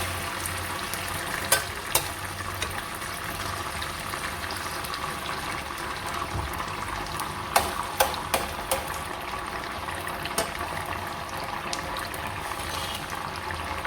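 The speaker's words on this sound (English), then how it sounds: "While we fry this tomato, my water is boiling." Steady sizzling of tomatoes frying in a pot for egusi soup, a constant crackling hiss with occasional sharper pops and light stirring clicks.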